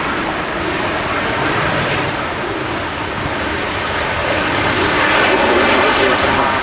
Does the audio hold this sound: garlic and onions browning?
no